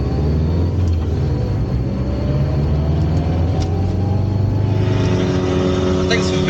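A gutted, turbocharged 4G63T Mitsubishi Galant VR4 with a straight-pipe exhaust run directly off the turbo drones loudly and steadily, its engine note climbing throughout as it accelerates.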